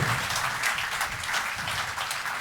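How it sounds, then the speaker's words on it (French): An audience at a June school wind band concert claps for the saxophone and trumpet soloists, a fairly soft but continuous spatter of many hands with no voices over it. "on les applaudit bien fort, les solistes"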